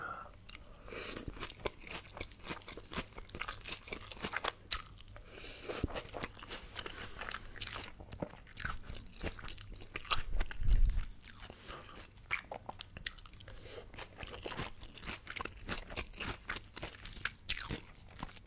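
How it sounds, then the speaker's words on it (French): Close, loud crunching and chewing of raw vegetables and salad, steady crisp bites and mouth sounds continuing for many seconds with no talk. "Ça croustille."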